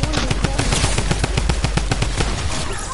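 Rapid automatic gunfire from a shooter video game, dense bursts of shots repeating in a fast steady rhythm, loud and close throughout with no talking.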